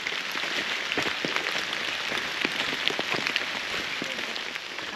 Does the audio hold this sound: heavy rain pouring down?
yes